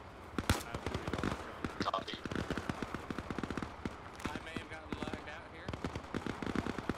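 Dense rapid gunfire in the military game Arma Reforger, with rattling bursts and single shots crackling almost continuously for several seconds and faint voices beneath.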